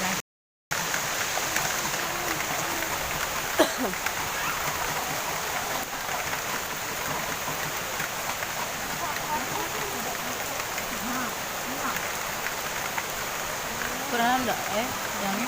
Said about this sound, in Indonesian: Hujan-hujan, mandi hujan.